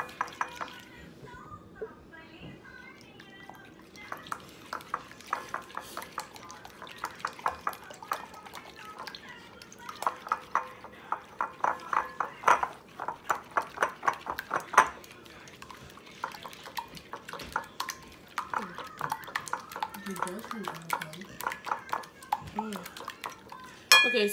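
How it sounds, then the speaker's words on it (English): Eggs are whisked in a bowl, producing a rapid run of light clinking and tapping strokes against the bowl, close and fairly steady, with brief kitchen clatter and a voice now and then in the background. "I'm gonna whisk these eggs together."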